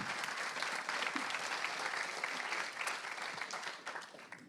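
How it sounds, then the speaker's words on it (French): A conference audience applauds two speakers, a dense, steady wash of clapping hands that carries on for several seconds and eases slightly at the end. "On peut applaudir nos deux intervenants."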